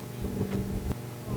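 A fire engine's pump motor revs with a steady, loud, low rumble at an outdoor Labor Day firefighters' drill in West Hempstead, with wind buffeting the microphone.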